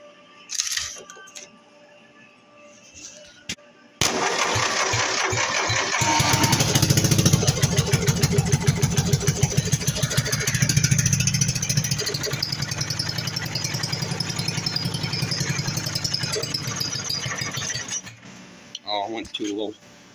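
A racing lawn mower's small engine is started directly at the starter: a few quiet clicks, then it catches and runs loud and rough for about fourteen seconds before cutting out to sputtering near silence.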